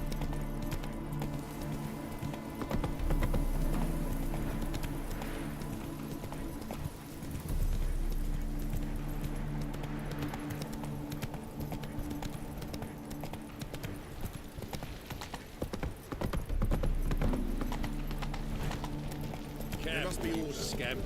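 Hooves of the horse Roach clip-clop at a gallop in a video game, a steady fast rhythm running throughout, with game voices talking over it.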